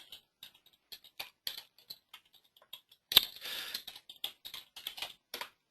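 Bursts of computer keyboard typing, crisp separate key clicks with short pauses between them, near and fairly clear, and one louder rustling clatter about midway through.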